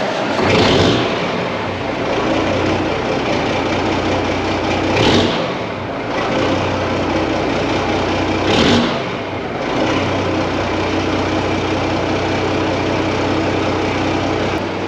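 A Peterbilt 359 truck engine runs steadily and loud, revving up in brief surges every few seconds before settling back to a constant drone.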